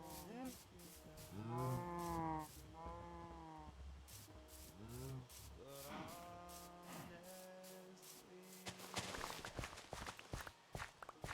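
Cattle on a farm moo several times in a row, loud drawn-out bellows up close, mixed with shuffling footsteps and rubbing or knocking on wood as the animals move around, and clattering clicks toward the end.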